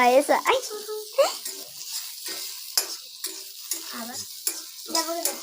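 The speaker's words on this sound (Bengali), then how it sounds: "এবার আমি ঝিঙেগুলো ভেজে নিচ্ছি" Ridge gourd slices fry in a village kitchen pan, a soft sizzle with occasional stirring scrapes, while voices talk over the cooking throughout.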